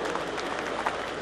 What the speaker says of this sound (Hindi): जोरदार तालियों के साथ विनोद जी का स्वागत करें